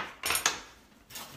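A metal fork scrapes and clinks inside a pot in two quick bursts of stirring, separated by a short pause, close and fairly loud with no talking.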